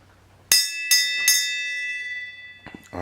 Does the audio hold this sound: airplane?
no